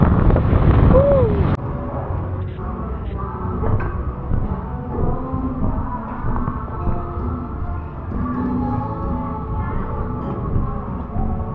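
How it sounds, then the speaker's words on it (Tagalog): Heavy wind buffeting the microphone on a scooter ride, a constant low roar and rumble filling the clip, louder in the first moments and then steady, with no clear voices over it. "Grabe yung hangin."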